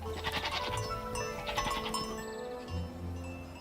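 A goat bleating in a village, several loud wavering bleats one after another from near by, with faint tinkling in the background.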